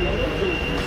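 Rumble of a metro train carriage in motion, a dense steady roar with a thin high whine running through it, loud and close for under a second.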